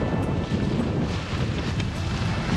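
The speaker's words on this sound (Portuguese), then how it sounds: "o vento apertou bastante. Ventão agora na Ilhavela" Strong wind roars across a sailboat in a channel off Ilhabela, where it is running on just a little genoa. A steady, loud, broadband rush with low buffeting rumble continues throughout, with no voices.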